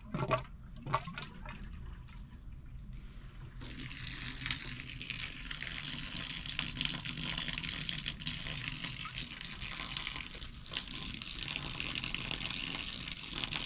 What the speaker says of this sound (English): I'm bleeding out the air that's in here now because I got rid of the water